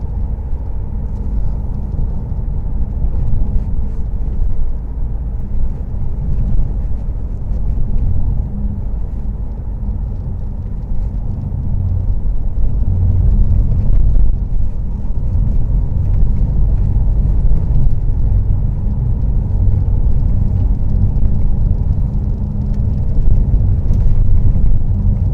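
Car cruising along a country road in Kent, giving a steady low engine and road rumble with tyre noise throughout, fairly loud and continuous with no talking.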